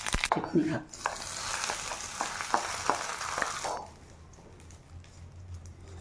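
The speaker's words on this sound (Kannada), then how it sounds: "ಉದ್ದಿನ ಬೇಳೆ ಫ್ರೈ ಆದಮೇಲೆ ಒಂದು ಸ್ಪೂನು ಸಾಸಿವೆ ಕಾಳು ಹಾಕ್ಬೇಕು" Urad dal and mustard seeds frying in hot oil for a chutney tempering give a bright crackling sizzle with stirring scrapes and small pops, close and loud at first, then dropping to a quieter background hiss.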